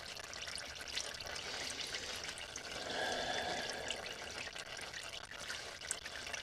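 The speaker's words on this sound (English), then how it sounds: "there's a lot of fluid draining, so we'll let it drain" Transmission fluid streams steadily out of a vehicle after the valve body bolts come out, a continuous close splashing pour that swells briefly in the middle.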